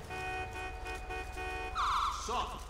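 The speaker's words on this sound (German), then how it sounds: "Der macht ja einen Terror mit der Hupe." A car horn blares in GTA V during an LSPDFR police escort mission, a sustained, harsh electronic tone that cuts off and gives way to a brighter, pulsing warble over steady game traffic noise.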